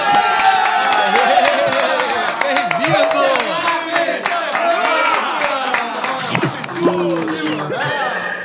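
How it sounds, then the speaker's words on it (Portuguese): A studio audience on a samba and football TV programme applauds and cheers, a loud crowd wash under a presenter's voice and some music, continuing steadily for several seconds. "Palmas para ele!"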